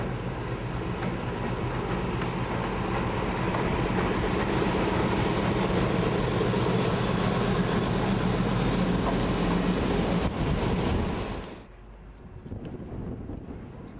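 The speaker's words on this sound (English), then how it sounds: "as this M41 brings in a single coach from the nearby carriage sidings" An M41 diesel locomotive brings a single coach in from nearby carriage sidings at Seldermalk, a steady loud rumble with wind buffeting the microphone, dropping away abruptly near the end.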